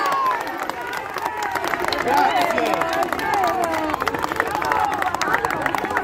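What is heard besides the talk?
crowd applauding for a singer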